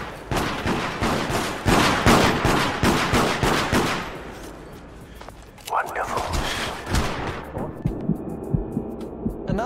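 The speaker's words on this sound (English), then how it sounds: "And now they're shooting me for no reason." Rapid bursts of video game gunfire hammer toward the player in loud repeated volleys, then thin out into scattered shots with a voice talking over the later part.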